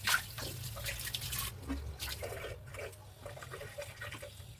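Running water splashes and trickles as grapes are washed with hot water, a steady close gurgling stream with drips and slight clatter, no talk.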